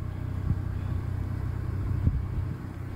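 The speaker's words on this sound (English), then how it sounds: "Could that possibly be a gas generator running 24 hours a day?" A gas generator runs at an EV charging station with a steady low engine rumble and faint thumps, heard at a distance under outdoor ambience. No one speaks.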